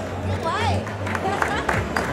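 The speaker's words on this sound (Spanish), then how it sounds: "Fortísimos aplausos." Spectators applauding at a popular cross-country race in Balmaseda, a dense wash of clapping and crowd noise with a voice speaking over it.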